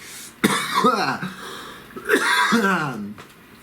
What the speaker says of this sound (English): I've been coughing a whole lot today